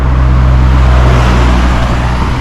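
Steady, loud road traffic on a busy main road, with a continuous low engine rumble and tyre roar from passing cars and heavier vehicles, no voices.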